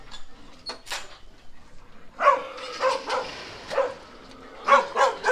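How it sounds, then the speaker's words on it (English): Several sharp dog barks ring out in short bursts, some overlapping, from two dogs blocking traffic on a road in Kodaikanal, India, at moderate distance amid faint background noise. "We have got traffic jam because of 2 dogs."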